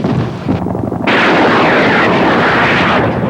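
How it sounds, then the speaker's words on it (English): Loud, dense roar of heavy gunfire and rumbling engines from attacking Soviet helicopters, with a sharp surge after a brief dip, sustained and close. "Soviet helicopters are shooting up the area!"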